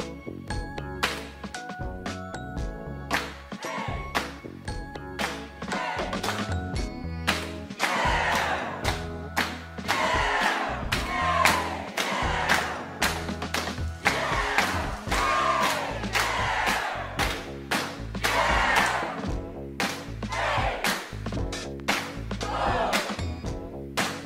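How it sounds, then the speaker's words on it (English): A video game crowd swells and reacts dynamically to gameplay, building into loud cheering and shouting with rhythmic chanting and stomping accents over a steady roar, heard alone without narration. "we implemented a dynamic audio crowd system, which is driven by multiple game parameters to make it as reactive as possible"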